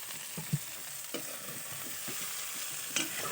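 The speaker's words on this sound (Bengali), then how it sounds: "ভাজো কায়দা করে" Prawns fry in a pan over a fire outdoors in the Sundarbans, with a steady, soft sizzle running throughout and occasional scraping stir sounds and light knocks from a utensil.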